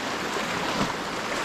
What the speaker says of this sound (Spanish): El río es bastante grande aquí en este lugar.